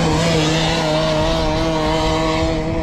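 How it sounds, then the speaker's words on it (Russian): Two Rotax Max kart engines run together on one kart, a loud, steady, buzzing two-stroke drone held close by, with no voices over it. "Там что, сразу два мотора одновременно заводят?"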